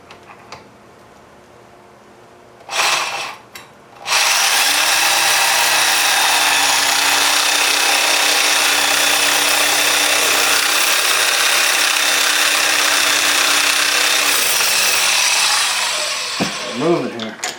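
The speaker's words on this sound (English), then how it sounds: "I'm going to take as much meat off of that as I can with the Sawzall." A Sawzall reciprocating saw cuts a metal muffler flange clamped in a vise, starting with a couple of short bursts and then running in a long, loud, steady harsh rasp that fades out at the end.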